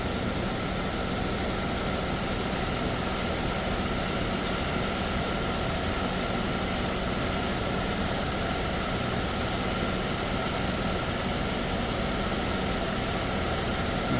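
A vehicle engine idles steadily in a shop during an air-conditioning compressor check, producing a constant, even hum and drone with no change in pitch and no voices.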